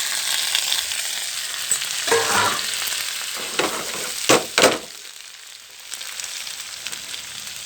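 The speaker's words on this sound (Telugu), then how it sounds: "టమాటా ముక్కలు వేగుతున్నాయండి" Tomato pieces frying in oil, a close, steady sizzle with several sharp spoon scrapes and stirring bursts in the middle before the hiss settles back.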